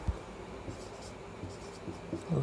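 Chalk or marker taps and strokes on a board while a mathematical statement is written out, several short scratchy marks at an uneven pace, close and fairly quiet.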